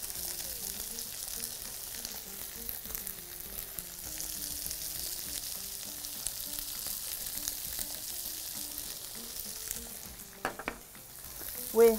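Seasoned beef fillet, salted and peppered, frying in a spoonful of oil, giving a steady close sizzle throughout with faint stirring scrapes and a few clinks near the end.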